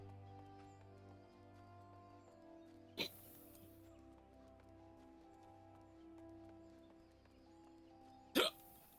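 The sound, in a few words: hiccup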